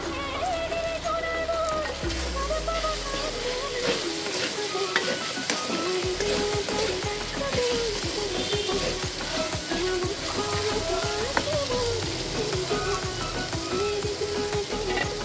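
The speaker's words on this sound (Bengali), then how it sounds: "পেঁয়াজটা কিছুক্ষণের জন্য ভাজতে দিচ্ছি।" Chopped onion fries in ghee and oil for a chicken dish, giving a steady, dense sizzle and crackle. Occasional stirring clatters sound throughout.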